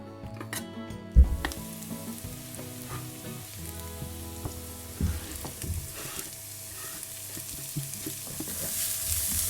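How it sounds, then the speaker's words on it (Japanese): Food sautéing in a frying pan until soft, with a steady sizzle, occasional sharp utensil clanks against the pan, and a hiss that swells louder toward the end. "フライパンでしっかり柔らかくなるまで炒めます。"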